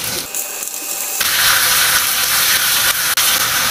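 Chicken pieces dropped into a pan of onions already frying in oil over medium-low heat, making Japanese curry rice. A sudden, loud, steady hiss-sizzle takes over after a quieter start and holds almost unbroken to the end.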